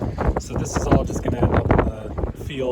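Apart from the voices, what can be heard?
strong wind gusts blowing outdoors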